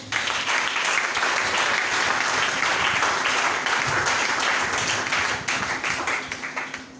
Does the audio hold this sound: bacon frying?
no